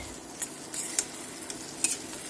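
Mustard paste is stirred into onion, chilli and tomato frying in a pan, giving a quiet bed of sizzling broken by a few soft, scattered scraping and clinking strokes of the spoon.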